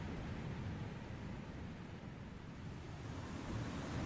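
A river flows beside a wild camp in the evening just after rain, making a continuous, soft, broadband rush with a gentle low rumble. It is fairly faint and even, and no voices are heard.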